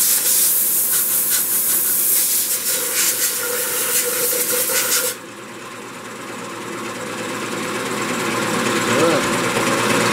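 Loud hiss of compressed air blasting over a spalted walnut vase freshly coated in tung oil; a steady broadband rush for about five seconds, then a quieter, lower airflow with faint background noise.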